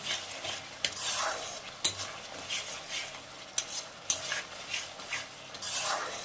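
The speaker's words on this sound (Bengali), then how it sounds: "এবার আমি ভালো করে নেড়ে নেব।" Egg curry masala with cauliflower being stirred in a frying pan, a soft continuous sizzle punctuated by repeated clicks and scrapes of a spoon against the pan, fairly quiet and close, with no talking.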